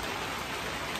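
Heavy downpour of rain, a dense, loud, continuous hiss of drops hammering surfaces, steady throughout without any voices.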